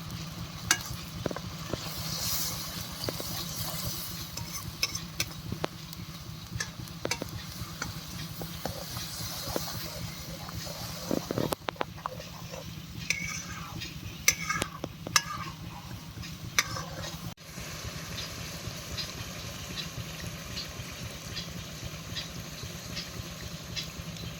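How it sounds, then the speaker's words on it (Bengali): Ground chilli, cumin and coriander fry in oil for a village-style Bengali chicken curry, a steady close sizzle with scraping stirs and occasional clinks of a utensil against the pot, and no voices. "তো মশলাটা তেল ছেড়ে দিয়েছে, মানে মশলাটা ভাজা হয়ে গেছে।"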